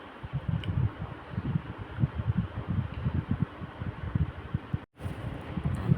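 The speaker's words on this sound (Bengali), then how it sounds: "বাইরে কি সুন্দর ঠান্ডা ঠান্ডা হাওয়া দিচ্ছে।" Cool wind blowing outdoors in the early morning before sunrise, a steady gusty rumble buffeting the microphone with fluttering surges and one brief dropout near the end.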